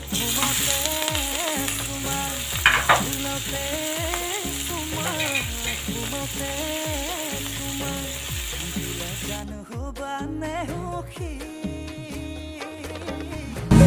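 Beet spinach tipped into a pan of onions already frying until reddish brings a loud, steady sizzle with stirring scrapes throughout. Near the end the sizzle quietens and turns patchier.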